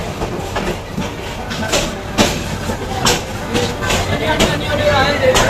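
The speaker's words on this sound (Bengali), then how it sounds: "দেখতেই পাচ্ছেন লালমনি এক্সপ্রেস গাইবান্ধা রেলওয়ে স্টেশনে এসে পৌঁছাচ্ছে।" Lalmoni Express pulling into a crowded Gaibandha railway station, its wheels clattering in a steady rhythmic clack over a loud continuous rumble, with voices from the crowd underneath.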